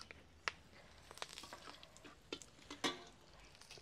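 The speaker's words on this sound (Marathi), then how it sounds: "त्याच तेलात आपण जे आपण खडे मसाले उरून ठेवलेले ते सर्व टाकून घेऊया." Whole spices drop into hot oil and fry in a pan over a wood-fired stove for a Maharashtrian brinjal dum biryani, with faint sizzling and a few sharp clinks of stirring, quiet and close, no talk.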